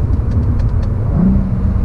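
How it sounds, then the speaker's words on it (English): A 2017 Cadillac ATS-V engine downshifts into third gear through a corner, giving a steady, loud low rumble with a brief rising swell partway through. No voices are heard. "Come down into third gear here."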